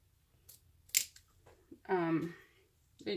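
Scissors snip through the end of a zipper while sewing a crossbody bag, a couple of sharp close cuts among quiet rustles, with a person talking between them.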